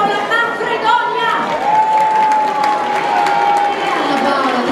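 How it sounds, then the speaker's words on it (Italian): An audience applauds at a women's awards evening in Italy, a dense, steady wash of clapping and crowd noise that continues throughout, with a sustained tone running beneath it. "Con un applauso per Anna Paola Manfredonia."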